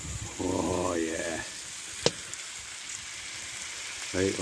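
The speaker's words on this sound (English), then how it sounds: "Right, they're sizzling away." Food sizzling in a pan on a woodburning stove inside a hot tent at a back garden camp, a steady close frying hiss running throughout, interrupted by short bursts of someone talking and a single sharp knock.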